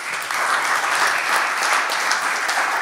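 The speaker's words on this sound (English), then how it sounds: "An applause." Applause breaks out from an audience at a tech launch event in Estonia, a short burst of steady clapping that starts abruptly and holds at an even level without speech.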